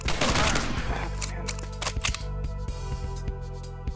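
Light-gun shots in the arcade game Point Rescue ring out as a burst of sharp, ringing reports and then a scatter of single shots with gaps between them, played over tonal game music.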